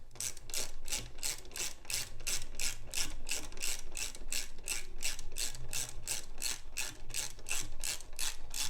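A ratchet wrench runs a new 10mm bolt into a Kinetic MX brake pedal with a steady, rapid train of close metallic clicks, continuing evenly without pause.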